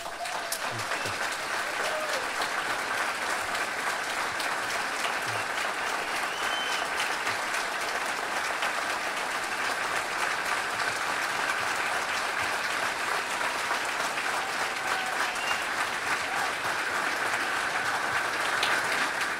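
Steady, dense audience applause for anti-corruption prosecutor Deltan Dallagnol at a public event, even and unbroken for nearly twenty seconds with no one speaking over it.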